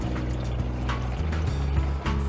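Water runs into a car radiator with a continuous liquid gurgle and trickle, close and fairly loud over a low engine-like hum, with a few soft clunks.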